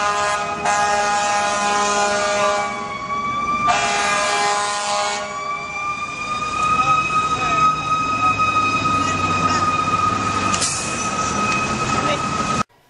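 A fire truck siren wails loud and close, sliding up and down in pitch continuously with a brief horn-like blast near the end.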